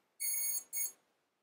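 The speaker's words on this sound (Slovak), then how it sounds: "Dve pípnutia, vidíme," Two clear electronic startup beeps from the CC3D flight controller of an Eachine Falcon 250 quadcopter, a longer tone followed by a shorter one, close and isolated in silence.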